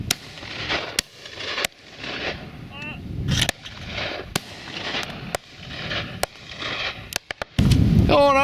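Shotgun shots fired at pheasant or partridge on a countryside game shoot, several sharp loud reports spaced through the clip, with voices talking between them.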